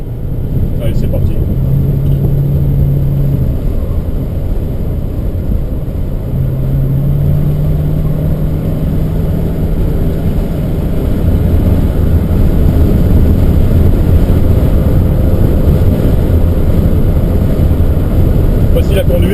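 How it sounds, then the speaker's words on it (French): A 1968 Mercury Cougar driven on a rough, potholed road, with a steady loud engine and road rumble heard from inside the cabin and a faint tonal hum throughout. "Facile à conduire sur une route pas très régulière, assez défoncée."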